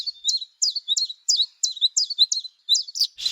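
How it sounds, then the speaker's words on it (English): A male bluethroat sings in the Arctic spring, a rapid series of about ten bright, high, repeated chirping phrases delivered close and clear against silence, with a brief burst of noise at the very end. "It's a beautiful male bluethroat, his vivid azure throat and upper breast rimmed with rust."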